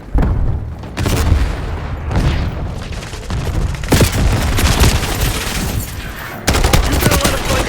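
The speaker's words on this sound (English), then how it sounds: "Sending the Semtex." Semtex grenade blast in Black Ops 6, with heavy booms and bursts of gunfire packed into loud, continuous combat noise, including a sharp cutoff and a renewed blast near the end.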